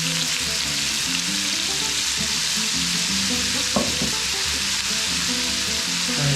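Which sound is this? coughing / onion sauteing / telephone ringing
onion sauteing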